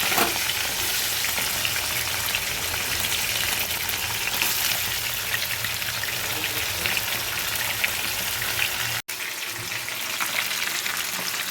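Pomfret fish frying in hot oil, a steady dense sizzle with crackling spatter held at constant loudness and close by throughout, with one brief dropout near the end and no voices.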